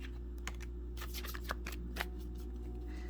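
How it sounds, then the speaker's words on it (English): A deck of cards being shuffled during a tarot reading, with a burst of crisp riffling clicks and flutters close by, standing alone over a low steady hum. "I'm going to shuffle one more time."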